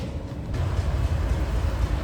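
A steady, heavy low rumble of a passing 8-coach train at a diesel gala, continuous and close throughout, with no voices.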